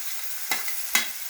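Carrots frying in a pan with mustard seeds, garlic, shallots, green chillies and curry leaves: a soft continuous sizzle broken by two sharp stirring scrapes, close up and with no talk.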